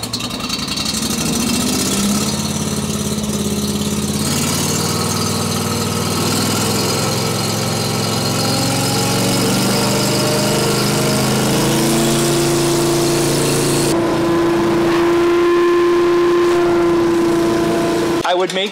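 A Briggs & Stratton engine powering a CoolVac23 insulation vacuum on a contractor's rig runs at a steady, loud idle throughout, with a constant low drone and a sustained hum joining partway; voices are heard over it.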